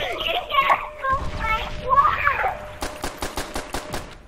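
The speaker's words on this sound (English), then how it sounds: "I'm shooting at him." Rapid bursts of gunfire in Call of Duty: World at War, a string of sharp shots in quick succession near the end, following game sounds and chatter, with a voice talking over the mix.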